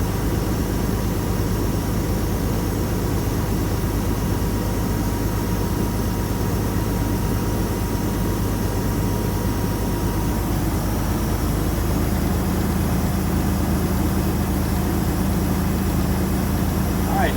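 Truck engine held at 1,000 rpm in the cab during a CDL pre-trip inspection, a steady loud broadband drone with a low rumble that continues unchanged, with a faint tonal rise near the end.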